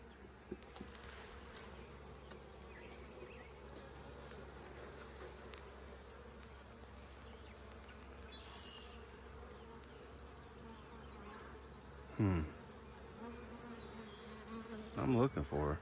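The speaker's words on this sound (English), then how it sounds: "Hello, little bee." Honeybees in a backyard beehive during a hive inspection, a steady buzzing hum running throughout with a regular pulsing rhythm, close by and fairly quiet, with a few brief louder swells near the end.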